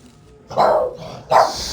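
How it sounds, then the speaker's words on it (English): Dog barking during sourdough bread preparation in a home kitchen, two loud, close barks roughly 0.7 seconds apart after a brief quiet start, with no talking. "Excuse my dog."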